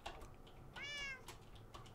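A cat meows once inside the Minecraft video game, a short, clear, rising mew standing alone against a faint background hum, with a few soft clicks before and after.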